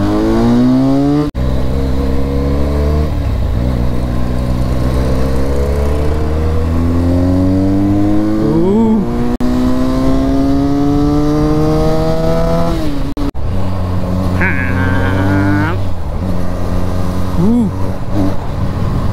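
A serviced Benelli sports motorcycle rides on the road, its engine droning loud and close as it rises and falls in pitch through repeated gear changes and throttle pulls, with a voice speaking over the engine.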